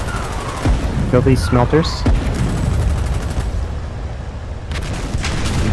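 Gunfire and heavy weapon blasts in the wartime video game Foxhole, a rolling series of loud shots and booms with a player's voice speaking over the shooting partway through.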